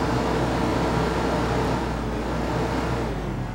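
A diesel truck engine idles in a Farm Sim mod game, a loud, continuous low rumble with a steady throbbing texture that stays even and close without revving.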